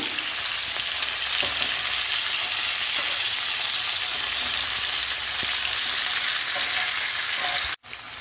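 Cut okra pieces frying in a pan, a steady loud hiss and sizzle with faint crackles throughout, ending with a short clatter.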